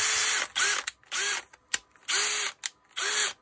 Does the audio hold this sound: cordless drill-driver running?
yes